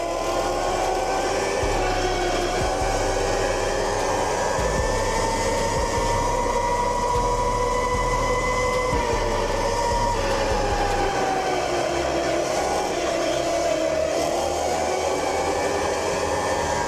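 Stock 72V Razor RSF650 electric motorbike riding past, a steady motor whine rising and falling in pitch over constant wind rush and low rumble, sustained and close throughout.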